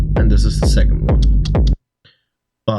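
A second version of a techno kick drum, a deep thumping electronic kick that hits roughly four times in quick succession with a low booming tail, then cuts to near silence before a brief burst returns at the end.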